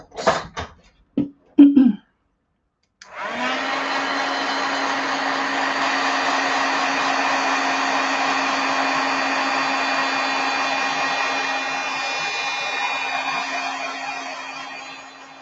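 A heat tool blasts hot air to set fresh paint on a painted flower. A few short knocks and bumps come first, then the loud, steady blower drone holds for about twelve seconds without any voices.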